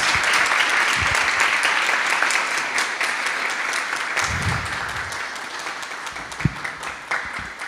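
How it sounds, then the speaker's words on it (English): An audience at an early-morning spiritual lecture gives a round of applause, a steady wash of many hands clapping with a few louder individual claps near the end. "Can we please give Keshav Maharaj a round of applause?"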